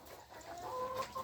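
Village chickens cluck in a brief, close burst of short, clipped calls with a faint rising note at the end.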